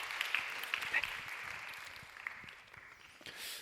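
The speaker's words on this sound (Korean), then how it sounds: "다시 한번 축복의 박수로 함께하겠습니다" A church congregation at a Sunday youth worship service gives a round of applause, heard faint and distant as a soft patter of clapping that slowly thins and fades toward the end.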